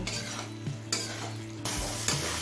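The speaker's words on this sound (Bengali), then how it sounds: "জল দিয়ে সব কিছু ভালোভাবে মিশিয়ে নিলাম এবার হাই ফ্লেমে কিছুক্ষণ কষিয়ে নেব" Ghugni masala fries in a pan over a high flame with a steady sizzle, broken by a few scraping stirs of the spoon, close and fairly quiet, with no voices.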